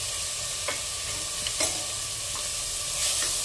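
Tomatoes and green chillies cook in an aloo baingan masala, a constant bright sizzle punctuated by a few sharp spatula scrapes spaced through the stretch, with nobody talking.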